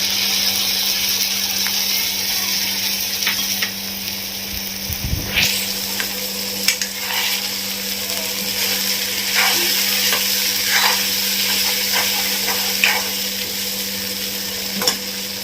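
Spice paste is stirred into vegetables frying in a pan for a home-style Indian thali, with a continuous loud sizzle and occasional scraping stirs and clinks close up.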